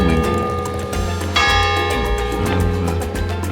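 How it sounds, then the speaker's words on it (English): Church bells peal continuously in Guadeloupe, a bright layered ringing of several bells with sustained overlapping tones and a fresh strike partway through, steady and fairly loud throughout. "Church bells from the church also used in the filming."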